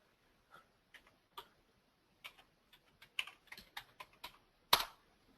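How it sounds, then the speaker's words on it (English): Keys tapped on a computer keyboard while typing a password, in short irregular bursts, a few isolated strokes then a quicker run, ending with one firm press; quiet room. "I was typing an incorrect password"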